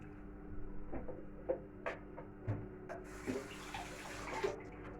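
Licorice drink is strained through a cloth, a soft, continuous trickle and splash of liquid with a few light knocks and taps, heard close and without speech.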